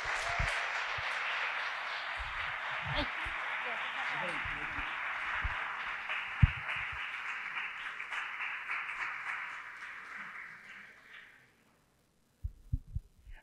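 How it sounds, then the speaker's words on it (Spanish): Applause for a speaker at a university talk on joining the Zero Hunger effort: dense, steady clapping from an audience that carries on for about eleven seconds, then fades out, with a few faint knocks afterward. "Un aplauso para nuestro ponente."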